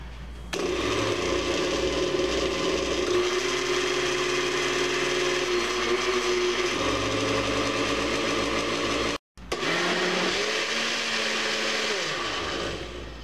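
A gelatin mixture is ground in a motorized grinder, a loud continuous whirring drone that shifts pitch as it runs, cuts out briefly near the end, then starts again.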